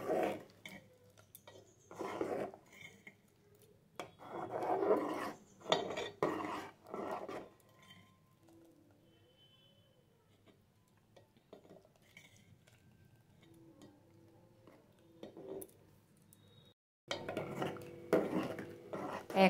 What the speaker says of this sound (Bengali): কাজু বাদাম কিশমিশ দিয়ে আবারও একটু কিছুক্ষণ আমি নাড়াচাড়া করে নিচ্ছি।